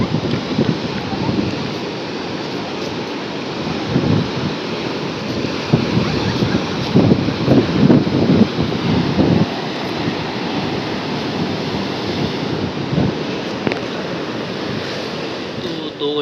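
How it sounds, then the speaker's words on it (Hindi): Sea waves at Somnath beach in Gujarat wash in a constant, loud roar mixed with heavy wind buffeting the microphone, with faint voices murmuring underneath. "जितनी भी दूर तक आप देखोगे पूरा समुंदर ही समुंदर है"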